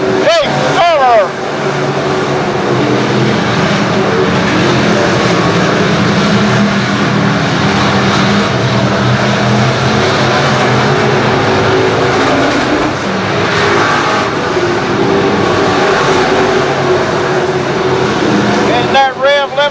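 Dirt-track race cars at Bethany Speedway in Bethany, Missouri, including car 11J, roar past continuously with loud, droning engines and rising and falling pitch, while an announcer talks over the din.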